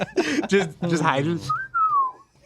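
A person whistles a short, gliding note that falls in pitch, right after a brief stretch of talking.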